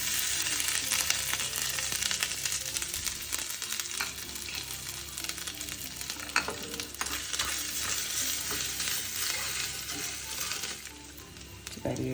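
Grated coconut sizzles in hot oil with mustard seeds in a pan for a Kerala jackfruit and dal curry, a steady loud frying hiss with occasional stirring scrapes throughout.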